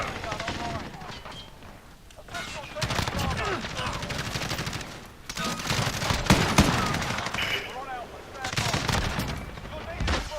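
Gunfire from a Call of Duty Modern Warfare match, with bursts of automatic fire and shots in dense clusters across the clip, loud and near, mixed with game effects and voices talking throughout.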